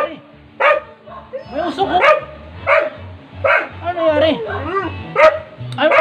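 A dog barks and yips several times close by, in short irregular bursts mixed with people talking.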